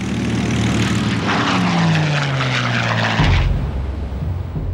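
Old World War II propeller warplanes roar overhead in a continuous loud engine drone, with a pitch that slides downward as they pass close by.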